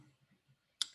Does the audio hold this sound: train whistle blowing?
no